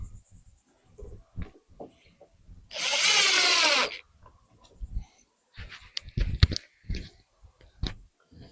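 Power drill driving screws into wood while building a 12-volt solar shed, one loud sustained whirring burst of about a second, surrounded by quieter handling knocks and clatter.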